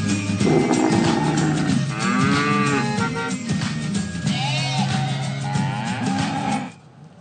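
Cattle and goats at a crowded livestock market on the eve of Eid al-Adha, lowing loudly and almost continuously with overlapping drawn-out calls close by and no talk.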